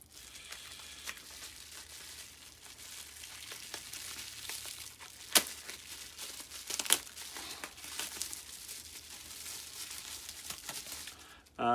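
Bubble wrap packaging around fragrance samples crinkles and rustles as it is unwrapped, a close, soft, continuous crackling with a few sharper crinkles and pops.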